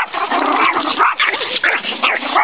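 Several small Yorkies bark, yip and growl in quick, overlapping bursts while confronting a large Mastiff, loud and close throughout with no talk.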